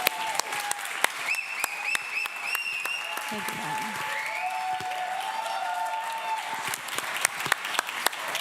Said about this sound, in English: right now I need a great round of applause